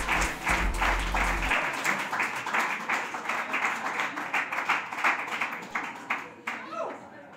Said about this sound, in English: Don't you dare stop clapping.